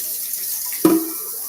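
Water is run into a cup for dumpling dough in a kitchen, heard as one short, close splash and trickle that rises suddenly and fades quickly.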